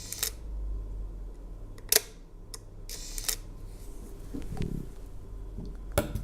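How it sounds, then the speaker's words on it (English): Leica M8 rangefinder camera shutter firing at 1/250, several sharp close clicks spaced a second or so apart over a quiet background. "LEICA M8 sounds like this."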